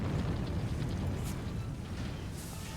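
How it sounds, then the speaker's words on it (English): A cannon-like blast in Final Fantasy XIV registers as a deep, booming rumble that rolls on heavily and steadily for a few seconds, with no voices over it. "Sounds like someone fired a damn cannon or something."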